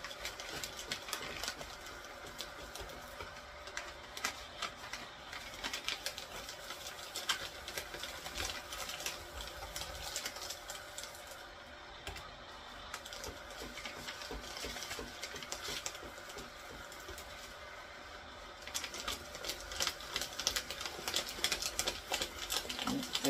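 A Royal 18MC microcut paper shredder chews steadily through paper, a dense, continuous mechanical grinding and rattling that stays close and fairly even, growing a bit busier toward the end.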